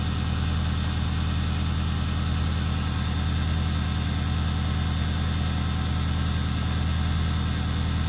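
A Detroit Diesel 8V92TA in a Wanderlodge RV idles at about 610 RPM, giving a constant, droning low rumble with a fine rapid pulse and no breaks.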